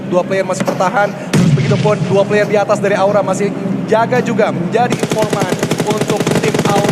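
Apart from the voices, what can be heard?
gunfire in video game PUBG Mobile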